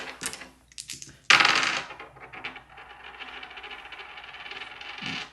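Three dice are rolled in a single sharp clatter that settles into a rattling tumble and then fades, close by with no talk over it.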